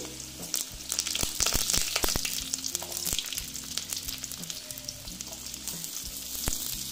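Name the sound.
carrots added to hot spice tempering, sizzling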